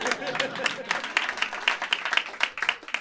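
Live podcast audience clapping as a yes vote, a dense, steady patter of many hands with crowd noise throughout.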